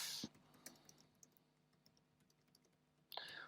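Keys clatter on a computer keyboard as a quiz question is typed, with a burst of quick keystrokes at the start, sparse light clicks in the middle and another dense burst at the end, close and quiet with no talking.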